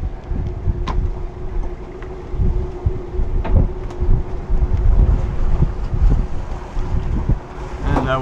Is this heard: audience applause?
no